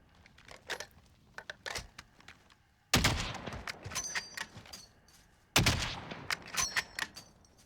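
Gunfire in the shooter game Warzone, with bursts of rapid shots from a Bruen MK9 and a couple of heavier blasts, mixed with scattered clicks and effects, no talking.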